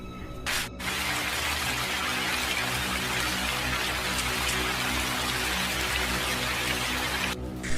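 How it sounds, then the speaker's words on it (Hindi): Rain falls in an animated horror story, a steady close hiss of drops that starts almost at once after a brief lull and runs evenly until it cuts off near the end. "इतना कहते ही तुरंत वहाँ पे बारिश हो जाती है"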